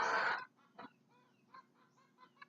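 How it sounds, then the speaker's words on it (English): Backyard chickens making a loud squawk up close, followed by a run of softer clucks and short calls scattered across a quiet background. "as you can tell, I have chickens"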